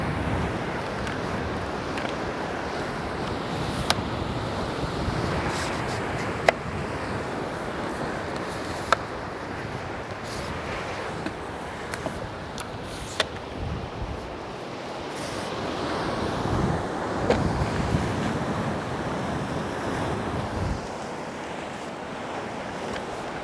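Ocean waves wash steadily onto the seashore, a broad continuous surf roar with gentle swells and some wind buffeting, no voices.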